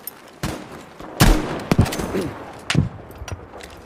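Gunfire in a video game: several sharp shots crack out at irregular intervals, some in quick pairs, loud and close against a quieter game background.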